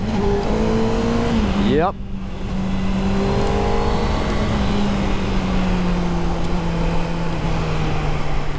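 A Honda CBR 600RR sport motorcycle engine revs hard as the rider pulls a wheelie. The sharp rising whine sounds close and loud, then settles into a steady drone with wind noise, and a voice says a word briefly.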